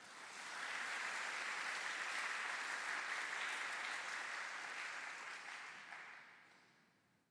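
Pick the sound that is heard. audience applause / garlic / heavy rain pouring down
audience applause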